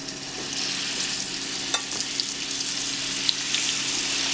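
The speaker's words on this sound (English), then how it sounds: "Now, I'm gonna sear it down." Meat sears in a hot pan with a continuous close sizzle, broken by a few sharp pops and crackles.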